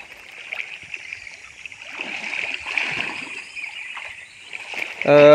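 In a Konkan river near Rajapur in May, people dunk and splash in shallow water, giving irregular nearby splashes and sloshing that swell in the middle and again at the end, over a faint outdoor background.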